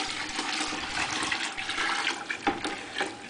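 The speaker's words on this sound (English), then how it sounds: "as soon as it's all melted, you take the pan and you pour it in the bucket" Melted homemade laundry soap poured from a pan into a bucket, giving a continuous, fairly soft splashing and trickling of liquid with small irregular surges and no talking.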